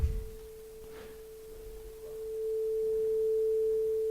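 A steady, pure electronic tone holds at one pitch, quiet at first and then louder, with no other sound around it.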